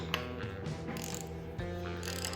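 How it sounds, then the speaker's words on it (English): A ratchet or torque wrench clicks while working on a 383 LT1 engine build. A few soft mechanical ticks sit over a steady tonal shop hum in a short, fairly quiet stretch with no speech. "Wrong ratchet. That was a torque wrench."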